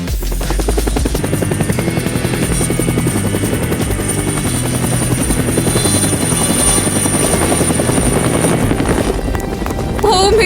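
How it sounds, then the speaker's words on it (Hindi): A helicopter's rotor thumps in a fast, steady rhythm and stays loud and close throughout, with a constant engine whine underneath. "हेलीकॉप्टर?"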